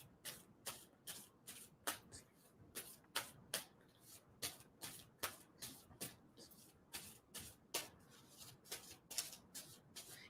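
Tarot cards being shuffled by hand, a rapid series of crisp riffling bursts repeating steadily throughout, close and fairly quiet with no talk.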